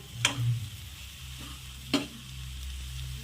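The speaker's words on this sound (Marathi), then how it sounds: "छान असं हलक्या हाताने मिक्स करू" Boiled potatoes for dum aloo are gently stirred through a sizzling pan, a soft background fry with two or three sharp spoon knocks against the pan.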